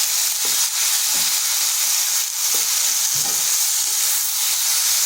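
A mixture of cooked flat beans sizzles steadily in a hot pan while being stirred, with a constant close frying hiss and occasional soft scraping strokes of the spoon.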